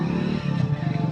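Steady low rumble of outdoor traffic, a motorcycle or car droning at a moderate distance, continuous and even, with no talk over it.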